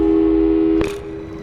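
A steady telephone tone in the Portal 2 video game drones on, then cuts off abruptly with a short click and fades into a low hum.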